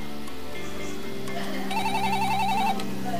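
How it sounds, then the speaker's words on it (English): Telephones ringing at a busy pet poison control center, overlapping electronic ring tones and trilling beeps layered over steady background hum, fairly loud and without speech. "Our phones were pretty out of control, and people were really inundated with the phone calls."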